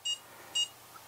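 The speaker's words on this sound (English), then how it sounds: "I know how much people get annoyed by listening to this thing beep all the time" A HobbyMate Speed H6 battery charger, set up for a 4S battery, gives two short, bright electronic beeps about half a second apart, close and clear over a faint steady background hum.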